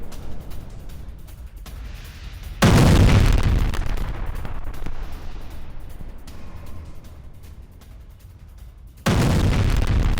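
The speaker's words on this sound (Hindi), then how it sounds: "एक और फैब 3000 गाइडेड बॉम्ब से यह अटैक और हमले में पूरी तरह तबाह यूक्रेनी सैन्य ठिकाना।" FAB-3000 guided bomb strike on a Ukrainian military base: heavy, loud explosive booms with rumbling blasts, two abrupt powerful bursts standing out over a continuous noisy din, no talking.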